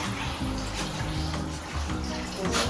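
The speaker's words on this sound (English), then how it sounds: "Now we're gonna be adding water, but you don't want too much water" Water pours into a pot of chicken feet and bones for collagen-rich bone broth, a faint, steady rushing splash running throughout.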